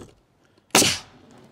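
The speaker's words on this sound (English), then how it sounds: "And then start shooting nails." One nail gun shot drives a 2.5-inch nail into cabin wall sheathing, a single sharp, loud bang that decays over a fraction of a second after a near-silent pause.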